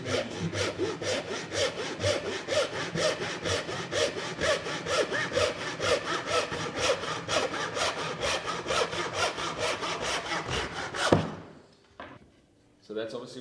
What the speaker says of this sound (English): With these saws is that you just need a light touch.